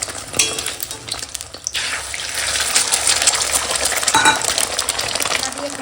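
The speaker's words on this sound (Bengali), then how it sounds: "ডিম ভাজা হচ্ছে" Eggs fry in a pan for an omelette curry, a loud continuous sizzle with crackling bursts and occasional metallic taps, close and without talk.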